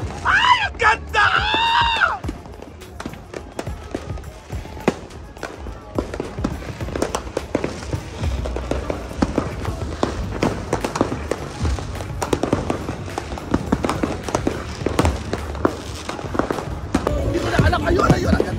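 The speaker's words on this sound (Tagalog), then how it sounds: "And may fireworks dito sa beachfront." Fireworks bursting over a Bangkok beachfront, a dense run of crackling pops and booms at close range, with excited shouting and talk from the crowd throughout.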